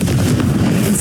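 The Confringo blasting spell in Hogwarts Legacy goes off as a loud, deep, rolling explosive rumble that fills the whole moment, heavy in the low end with a crackling edge.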